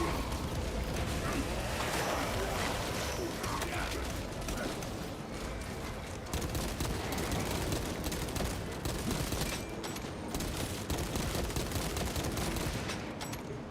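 Bolt pistol shots in the video game Space Marine 2, a steady barrage of gunfire mixed with dense battle noise and continuous speech over it throughout.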